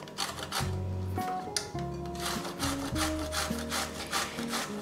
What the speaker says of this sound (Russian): Кабачок мы тоже терем на терке.